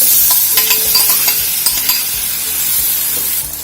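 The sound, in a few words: banana pieces sautéing in ghee in a pan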